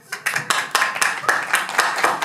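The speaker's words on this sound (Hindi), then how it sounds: "जैसे तैसे नाटक खत्म हुआ और तालियां बजी।" Theatre audience clapping at the end of a play, staged as an audio drama effect: close, steady claps falling in a brisk, fairly even rhythm for a couple of seconds.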